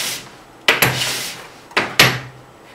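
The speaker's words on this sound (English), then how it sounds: "When you're doing hand planing like this" A smooth hand plane is pushed along a wooden board for cabinet drawers, making two quick, fairly close rasping swishes about a second apart, each fading out over a short tail.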